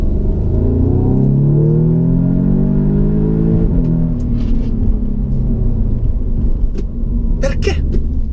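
An Audi S3 engine drones at high revs toward the rev limiter, its pitch climbing and then holding steady before dropping, heard from inside the cabin with a little talk in Italian.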